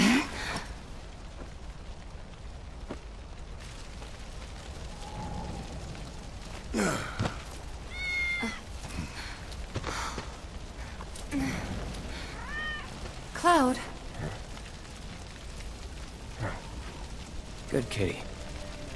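Cat meows in the video game Final Fantasy VII Remake, a few short tonal cries scattered over a steady ambient game background, with characters talking in between.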